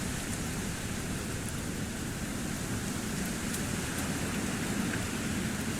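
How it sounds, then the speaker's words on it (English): Continuous steady rainfall, a dense, even wash of drops pattering on surfaces, with no voices. "Scattered showers are currently moving through the area."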